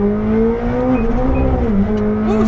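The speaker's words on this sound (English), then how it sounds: "Ooh, second gear burnouts. Not bad. Insane acceleration." A McLaren 765LT roaring hard in second gear, a loud, steady engine drone with pitch wavering as the tires spin and the car accelerates, heard from inside the cabin.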